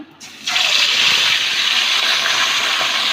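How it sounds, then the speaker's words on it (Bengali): A loud, steady hiss of rohu fish frying in hot oil bursts in suddenly and holds, a dense sizzling roar close by. "এবার ভাজার জন্য মাছটা দিয়ে দেব। তেলটা গরম হয়ে গেছে।"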